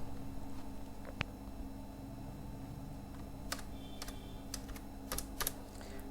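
A computer keyboard clicks faintly as code is typed, with scattered individual keystrokes over a steady background hum, mostly in short clusters toward the end.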